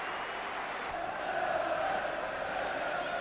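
A football stadium crowd at a Manchester City match bays and roars continuously, a broad, sustained wall of massed voices that swells slightly partway through.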